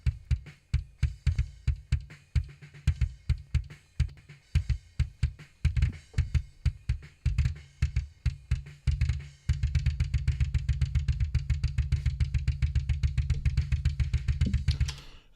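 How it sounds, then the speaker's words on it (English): A programmed drum track plays back with an EQ on the kick drum, the heavy, boomy kick thumping in a steady driving pattern with snappy hits above, turning into a dense, rapid double-kick run in the second half. "I've got an EQ on the kick drum."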